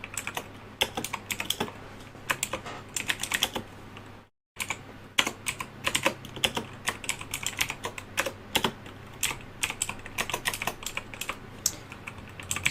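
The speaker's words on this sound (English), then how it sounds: "I've decided to try and touch type my way through this one." Touch typing on a computer keyboard while coding a Python Slack chatbot, a close, steady run of quick key clicks with uneven bursts and one brief pause, heard alone without speech.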